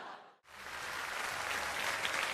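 Applause from the audience at a Chinese crosstalk stage show bursts in after a brief hush and holds as a dense, steady roar of clapping.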